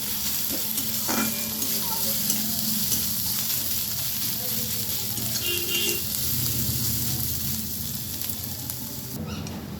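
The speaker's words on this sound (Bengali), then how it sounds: "দিয়ে আমি পেঁয়াজগুলো দিয়ে দিচ্ছি। পেঁয়াজগুলো আমি ভালোভাবে ভেজে নেব।" Onions frying with black cumin in a pan, a loud steady sizzle with occasional stirring scrapes and light clatter, continuous and close, without speech.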